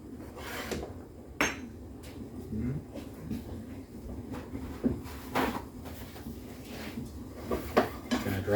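A plate is dried and handled in a kitchen, with a run of soft rubbing, clatters and knocks of dishware on a counter, some sharper clacks scattered throughout.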